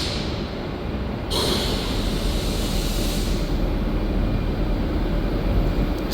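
A double-decker train departs Lisbon Oriente Station with a steady, loud rumble and wheel roar that holds for several seconds, and a brief hiss near the start. No voices are heard.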